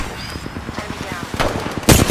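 Bursts of gunfire in the video game Apex Legends rattle in a rapid rhythm, loud and close, building to a heavier blast at the end.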